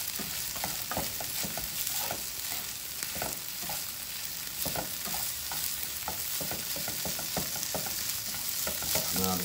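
Shrimp and oil frying in a pan with steady sizzling and a spatula scraping and stirring in repeated strokes, continuous and close for the whole stretch.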